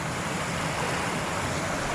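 A river flows beside a woodland wild-camping breakfast spot, a steady broadband rushing of water close by, continuous and fairly loud with some wind, no voices.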